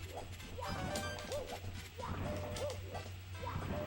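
Yipping, whimpering barks from a dog in Super Mario 64, likely a Chain Chomp, come in short bursts mixed with crashing thuds and game noise at a fairly low level.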